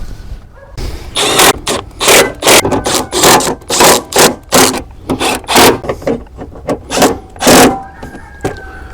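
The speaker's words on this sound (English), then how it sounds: "Now I'll go ahead and I'll tighten these down." A ratchet or wrench works bolts tight on a car battery plate, giving a close series of rhythmic rasping strokes in quick bursts with short gaps between them, no voices.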